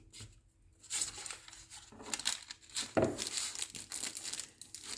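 A paper envelope being glued along its side and bottom seams, with close rustling and crinkling of paper in uneven bursts and soft handling noises between them.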